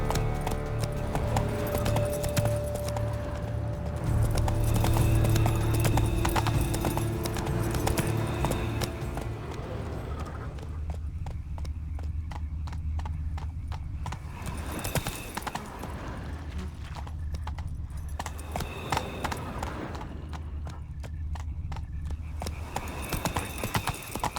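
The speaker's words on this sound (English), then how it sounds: "Horses must have gotten spooked." Horses in The Witcher 3 video game trot along in steady clip-clop hoofbeats over a dense, rumbling game soundscape, with a faint whinny, continuing for a long stretch.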